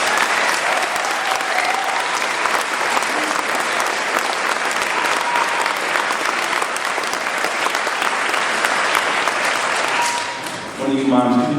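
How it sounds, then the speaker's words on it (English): A crowd at a school town hall meeting for PS/IS 78 in Queens breaks into loud, sustained applause lasting about ten seconds, then quickly dies away as a voice begins speaking. "So let's give them a round of applause."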